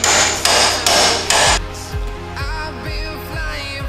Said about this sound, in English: Use a hammer and hit the knuckle until the control arm releases itself